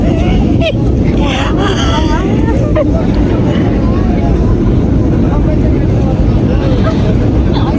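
A steady, loud roar of jet engines fills an airplane cabin during landing on a short flight, with faint voices talking under the constant drone.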